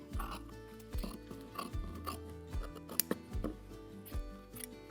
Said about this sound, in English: You've really got to cut out all of this extra fabric.